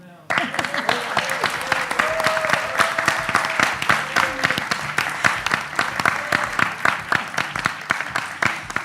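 Conference participants at a closing plenary in Bali applaud to adopt a manifesto by acclamation, sustained clapping from a large hall audience with a voice talking over it.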